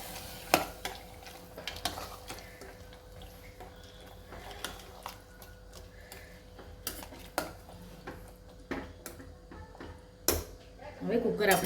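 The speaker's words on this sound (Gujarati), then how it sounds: "હવે આપણે ચણાની દાળ જે બાફી હતી અંદર નાખીએ। બધા સરખું મિક્સ કરી લઈએ।" Boiled chana dal is mixed into bottle gourd curry in a pressure cooker, with sparse spoon clicks and scrapes against the metal pot over a quiet background.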